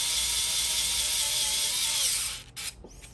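A higher-torque Japanese-model power driver runs steadily, tightening during a lock rekey job, a close, continuous whine for about two and a half seconds before cutting off into brief clicks and handling noise.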